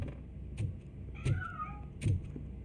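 A cat meows in the game RoboCop: Rogue City, three short meows spaced about three quarters of a second apart over a low background hum, with a few faint clicks between them.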